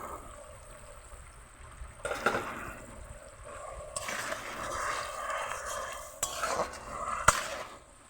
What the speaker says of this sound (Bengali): লো আঁচে করে এটাকে ভালোভাবে লালচে করে নেড়ে চেড়ে